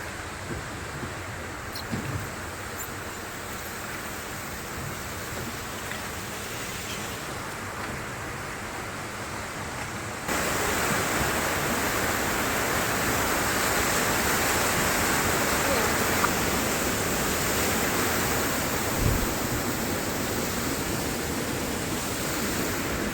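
River water rushing loudly where the Bhairavi flows into the Damodar near Rajrappa, a continuous roar that grows noticeably louder and closer partway through.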